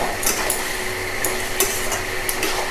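Spices being stirred into bottle gourd and prawns in a pan: repeated scraping and clinking of a spatula against the metal pan at an irregular rhythm over a soft, constant sizzle, close and fairly loud.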